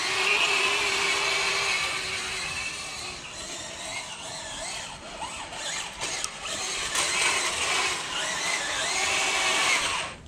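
A smoking RC toy tank driven at full throttle gives off a steady, loud, whiny motor drone with no one talking over it.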